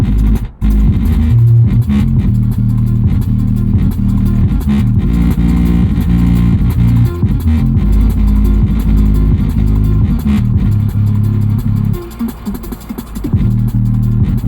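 A 2008 Mitsubishi Eclipse Spyder, a fourth-generation convertible, runs through a brake test on a city commute. Loud, close, steady low engine and road rumble fills the whole stretch, with a short dip and a rough, shifting patch near the end.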